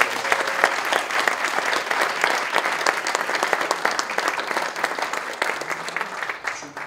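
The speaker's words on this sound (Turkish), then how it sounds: "O zaman herkesten bir alkış daha rica ediyorum." Sustained audience applause after a classical art song recital talk, dense crisp clapping from a sizeable crowd, steady and fairly close throughout.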